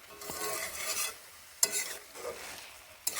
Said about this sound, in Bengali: এইভাবে এখন কিছুক্ষণ কষিয়ে নেব